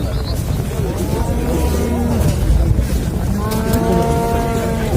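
Cattle at a livestock bazaar in Pokrovka, Talas, moo in long, loud calls, one low drawn-out bellow followed by another, over steady crowd and market noise.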